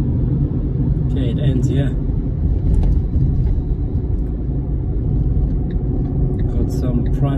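A car drives along a suburban road past a large car dealership in Alberton, Johannesburg, giving a steady low rumble of engine and road noise from inside, while someone speaks over it.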